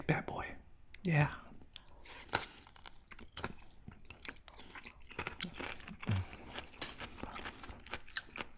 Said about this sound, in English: That kimchi crunch.